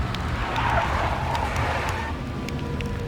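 A car chase in the Max Payne video game involving a big black Mercedes: engines roar with tires skidding and squealing, loud and continuous over a few seconds.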